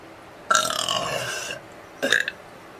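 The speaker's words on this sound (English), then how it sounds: "I feel like I need to burp again" A woman lets out two loud, close burps: a long drawn-out one lasting about a second, then a shorter one after a brief pause.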